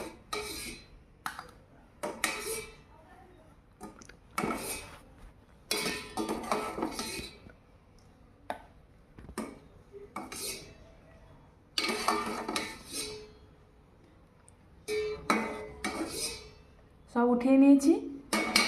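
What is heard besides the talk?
lifting chhana pieces out of sugar syrup in pot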